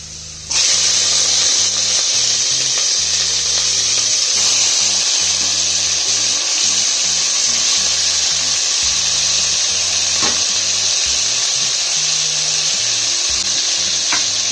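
Chicken pieces dropped onto browned onions in a hot pan sizzle loudly and steadily, a dense continuous frying hiss with occasional stirring clatter, no voices.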